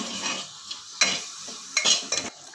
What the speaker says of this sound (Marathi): हे छान मिक्स करून घ्यायचं